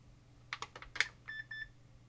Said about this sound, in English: we got our Roger beep and it gives us our menu